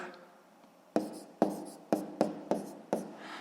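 Numbers being written by hand during a sixth-grade math addition exercise: about six short scratchy pen strokes in a steady sequence, close and clear over a faint quiet background.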